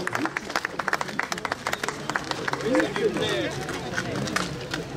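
A crowd at a livestock market show claps for donkeys being presented, quick sharp claps at first, then a fuller round of applause, while a voice talks over the noise.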